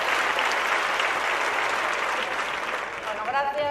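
Sustained applause and cheering from the crowd at the Partido Popular National Convention, greeting a speaker as she addresses the audience; a dense, steady roar of clapping that tapers slightly near the end as a voice begins to speak.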